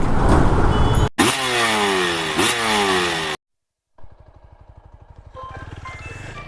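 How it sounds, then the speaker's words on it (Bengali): A cruiser motorcycle engine revs twice in rising, sweeping bursts, cuts to a brief silence, then returns as a lower, steadily pulsing idle that gradually builds. "cruiser bike"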